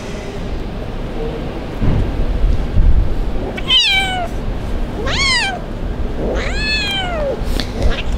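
A young abandoned kitten cries out on a street, giving several distinct rising-and-falling meows in a row over a steady background of outdoor rumble and noise.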